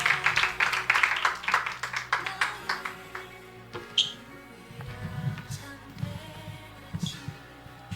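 Applause from an audience at a church youth service: a dense burst of clapping for the first few seconds that thins out and fades into scattered claps and quieter room noise.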